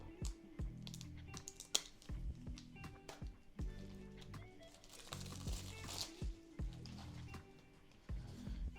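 Packaging for a second-generation Apple Pencil is handled and opened close up, giving a run of soft cardboard scrapes, rustles and small tapping clicks in uneven bursts, with no talking over it.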